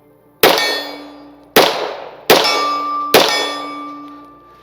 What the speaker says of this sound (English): first shots out of the 1911.